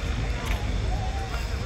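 Motorboat running along a canal amid other boat and jet ski traffic: a low, rumbling engine drone with wind buffeting the microphone, steady and fairly close through a brief moment.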